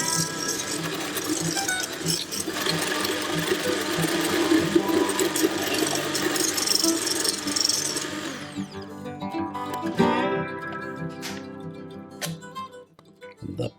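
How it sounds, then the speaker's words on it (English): An electric whisk beats the batter for gluten-free rolls with a loud, continuous buzzing whir for about eight seconds, then stops, leaving faint clinks and rattles of the bowl and tool. "And we whisk this for around 2 minutes."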